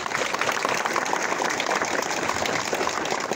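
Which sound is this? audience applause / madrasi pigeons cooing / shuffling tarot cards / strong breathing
audience applause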